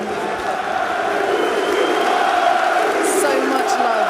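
A boxing arena crowd roars and cheers for Lewis Ritson at the Metro Radio Arena, a dense, loud and steady wall of voices with no breaks.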